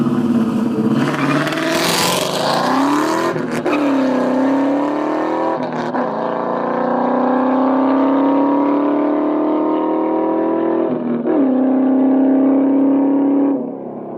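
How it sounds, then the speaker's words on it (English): A 2001 Ford Mustang Bullitt races a GTO and a Subaru on an old highway, its engine droning steadily loud and near as it pulls through the gears, with shifts marked by brief dips and rises in pitch. "It's an old highway, and here are some good races with a GTO and a Subaru"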